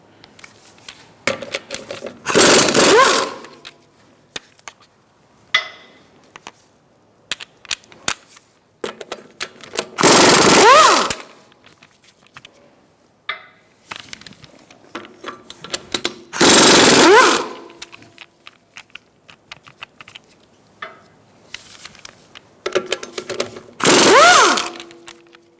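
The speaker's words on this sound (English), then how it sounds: "Using a 17mm socket, we're going to remove our wheel fasteners." An impact wrench with a 17mm socket spins off the wheel fasteners on a Fiat 500 in four loud, rattling bursts of a few seconds each. Quieter clinks and handling noises fill the gaps between them.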